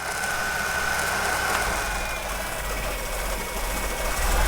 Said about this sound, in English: I'm going to unplug the distributor to set the timing. So now there'll be a definite change in idle.